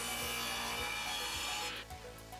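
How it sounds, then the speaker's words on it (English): A hand saw cuts a miter through a wooden piece for a holiday dip server, steady back-and-forth rasping strokes up close that stop near the end. "I could then flip my piece over and cut the miter in the other direction."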